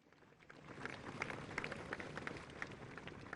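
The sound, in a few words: audience applause for the riders' display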